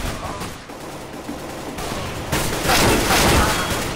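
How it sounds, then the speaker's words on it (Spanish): Rapid gunfire echoes across wooden floors on the Militia map in CS:GO, with bursts of shots growing louder and denser toward the end, and game sounds beneath. "Cómo se oyen los tiros sobre la madera también"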